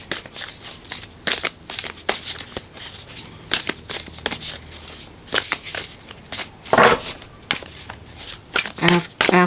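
Tarot cards are shuffled in quick, repeated riffling bursts close to the listener, with short pauses between them and no talk.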